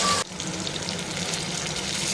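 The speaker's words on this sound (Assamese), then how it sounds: "মিডিয়াম ফ্লেমত বোথ সাইড ভালকৈ ভাজিম" Rupchanda fish fries in a pan over a medium flame, giving a steady, close crackling sizzle after a brief louder burst at the start.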